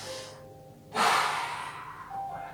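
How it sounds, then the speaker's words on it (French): A single audible breath is drawn in during a Tabata stretching exercise. A sharp, airy inhale starts about a second in and fades slowly, with quiet breathing before and after. "Puis on inspire."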